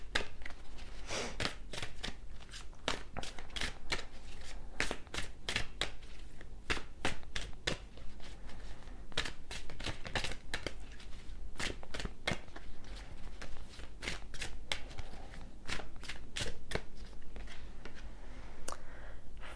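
Tarot cards being shuffled by hand: a long run of quick, crisp riffling clicks and flutters in irregular bursts, close and fairly soft, with no talking.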